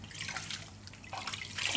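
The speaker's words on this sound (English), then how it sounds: "you're gonna go in there with your hands and you're gonna squeeze tightly" Hands squeezing and massaging grated coconut in a bowl of water to make coconut milk, soft wet squelches and trickling splashes, close and quiet, with no talk.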